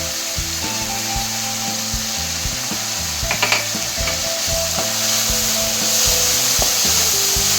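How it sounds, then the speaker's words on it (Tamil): A spicy kozhukattai mixture with coriander and curry leaves sizzles steadily in hot oil, a continuous close frying hiss broken by scraping stir strokes and a few louder crackles, with background music and no talk. "இது நம்ம ஆயிலில் தான் வச்சு வேக வச்சுக்கிறோம்"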